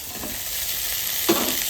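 Koi fish fries with drumstick stems in a pan, giving a steady, close hiss of sizzling oil with a soft stirring clink near the end.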